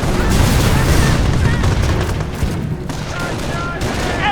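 Dense gunfire and explosions from a WWII battle in the Company of Heroes video game, loud and continuous with overlapping bursts and booms throughout.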